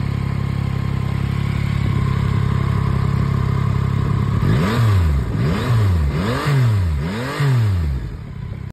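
A Yamaha XSR900 motorcycle engine idles steadily, then revs hard four times in a rhythmic series of rising and falling blips, loud and close.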